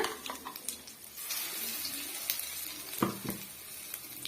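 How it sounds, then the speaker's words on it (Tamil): Ground garlic paste hitting hot oil in a pan for South Indian garlic pickle, a close, bright sizzle that rises and crackles with a few sharp stirring knocks toward the end. "இப்போ இந்த ஸ்டேஜில் நம்ம அரைச்சி வச்சுருக்க பூண்டு விடுதை வந்து சேர்த்துக்கலாம்"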